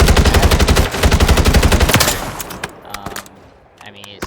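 Automatic fire from an SOA assault rifle in Call of Duty Warzone on Rebirth Island, fitted with a long range barrel, 50 round drum mag and heavy stock: a loud rapid burst of shots for about two seconds, then a few scattered shots and clinks.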